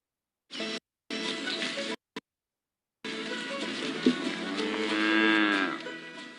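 A cow moos in a few short, clipped calls separated by silent gaps, then lets out one long, loud, drawn-out moo that rises and fades, with no one talking.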